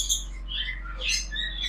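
Lovebirds in an aviary give quick high chirps and tweets, several overlapping calls in short bursts against a low steady hum, close and fairly clear.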